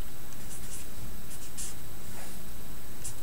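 A math step is written by hand, giving soft, close scratching strokes in short bursts with pauses between them on a faint steady background.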